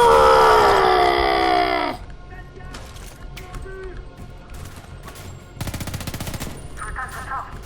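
Gunfire in the first-person shooter Homefront: The Revolution, with sniper shots among scattered sharp reports and a rapid burst of fire, mixed with a loud sustained groan or scream and game effects.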